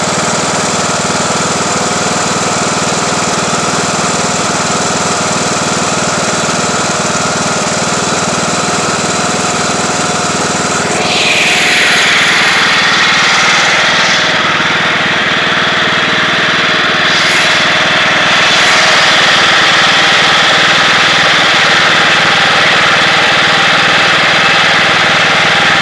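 A Craftsman YT3000 riding lawn tractor's engine drones loud and close throughout, its tone shifting partway through as the machine works harder and stays steady to the end.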